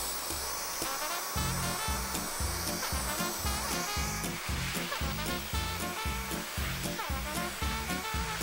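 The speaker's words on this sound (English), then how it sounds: "suction is really impressive for a battery-powered vacuum cleaner" A cordless battery-powered Dyson Digital Slim vacuum cleaner runs with a steady motor whine and airy suction hiss throughout, alongside a rhythmic low thumping pulse, close and fairly loud.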